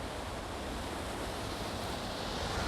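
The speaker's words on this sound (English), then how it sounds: "Just follow the sound of water." Steady, dense rushing of water, like a stream or surf, continuous and fairly loud with no voices.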